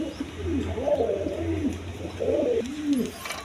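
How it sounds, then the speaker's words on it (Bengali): Pigeons kept as a pair on a farm coo in soft, rolling phrases, repeated several times at close range over a low background hum. "এখানে এক পেয়ার কবুতর আছে"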